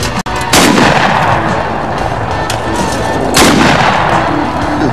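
A single loud rifle-type gunshot cracks out early during a whitetail deer hunt outdoors, followed by a sustained broadband rush and a second loud burst later, with no talking.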